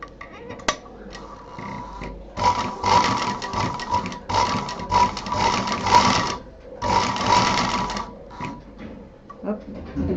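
A sewing machine stitching fabric pieces for a homemade hot pot pad, running in three bursts of rapid mechanical clatter with short pauses between them, close and fairly loud.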